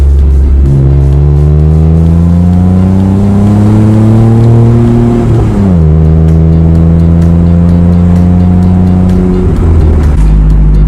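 A Smart car with a modified exhaust revs hard, its engine note climbing and holding loud and close, then dropping briefly around the middle before rising again in a second sustained rev.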